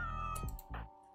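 Cats meowing in a video game, two or three short, close meows over a steady tonal game background, with no voices.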